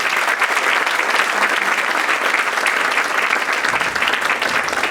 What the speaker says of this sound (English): can we please have a wonderful, wonderful round of applause